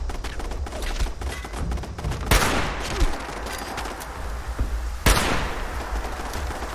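Sustained gunfire in Fallout 76, a dense crackling rattle of shots with two heavier, louder blasts standing out from the continuous volley.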